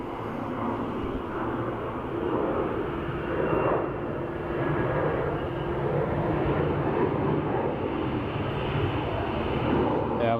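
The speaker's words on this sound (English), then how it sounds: "Ooh, bit of a rocky one for the Embraer." An Embraer jet landing at Dublin Airport, heard as a steady, fairly loud broadband engine roar with a low rumble that holds for the whole stretch, swelling slightly midway.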